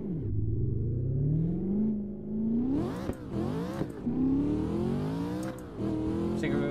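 A drift car engine in a VR drifting game at Teretonga Park revs loudly and continuously, climbing and dropping in pitch through gear changes and throttle stabs, with no talk over it.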